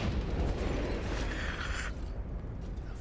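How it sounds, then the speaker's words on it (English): An explosion in Vampire: The Masquerade - Bloodlines rumbles as a dense, loud roar of noise, with a hissing crackle that cuts off abruptly and leaves a lower rumbling tail. "That was an explosion."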